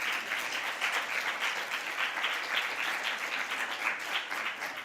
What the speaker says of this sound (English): a round of applause for all of our participants